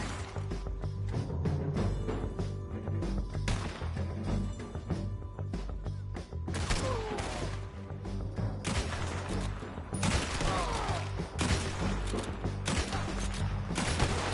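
A Red Dead Redemption 2 shootout crackles with dense, continuous gunfire from many weapons. Repeated loud shot bursts and mechanical clatter overlap at varying distances across the whole stretch.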